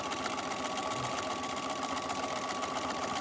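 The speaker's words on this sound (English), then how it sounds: "I'm gonna switch it to a straight stitch and just do kind of a wild straight stitch" A sewing machine runs a continuous straight stitch across a small holiday mini quilt, a steady, fast, even mechanical whir that holds close and loud the whole time with no talk.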